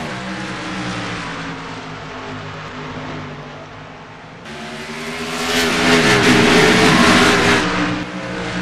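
Race cars roar off the start of the Piston Cup night race at Bristol Motor Speedway, a dense, continuous engine drone that swells louder as the field accelerates.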